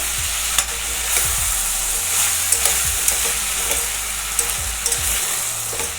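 Brinjal frying in oil for a drumstick curry, a loud continuous sizzle with repeated stirring scrapes and spatula knocks in an irregular rhythm, no voices.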